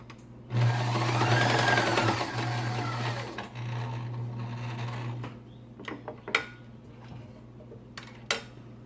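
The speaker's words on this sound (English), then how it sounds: "And finish stitching at the top again, leaving a large opening at the top." A sewing machine stitching fabric for a surgical mask runs loud and close in one continuous whirring burst of about five seconds, then stops, followed by a few sharp clicks and knocks.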